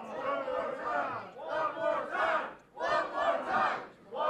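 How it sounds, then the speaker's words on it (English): Wrestling crowd at an XVW indoor show chanting in unison, rhythmic repeated bursts of many voices rising and falling across the clip, loud and close. "the crowd is saying one more time"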